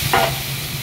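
Potatoes and chickpeas fry in oil in a kadai with a steady low sizzle, and a brief stirring scrape rises near the start.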